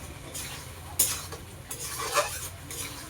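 Spices and potatoes are stirred in an oily pan, a utensil scraping and clinking against the metal in uneven strokes over a soft sizzle.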